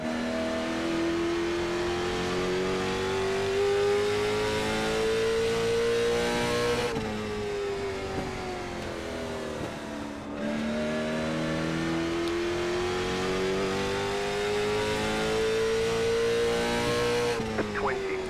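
Race car engine on the Martinsville oval in a racing simulator, revving up in long rising pulls that drop sharply at each corner, repeated twice, loud and close with no talking.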